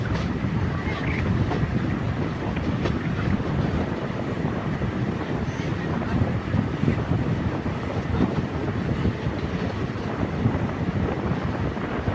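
A train ride with a constant loud rumble and rush of moving carriages, with wind buffeting the microphone and no break in the roar from start to finish.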